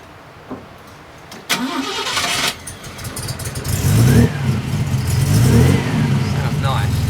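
A restored classic MG's engine cranks, catches and rises into a rumbling idle with a couple of revs, close by, while people talk over it.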